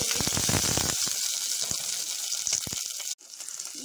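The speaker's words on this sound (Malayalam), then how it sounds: "ഈ ഇഞ്ചി വെളുത്തുള്ളി ഒന്ന് മൂത്ത് വരട്ടെ" Ginger and garlic sizzling in hot oil with mustard seeds, curry leaves and green chillies for a mango ginger curry, a steady close hiss with scattered crackles that cuts off briefly near the end.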